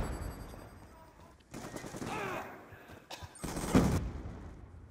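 Rapid automatic gunfire from an M416 in Black Ops II, bursts of fast shots in several runs with brief pauses between, loud and close with game effects around.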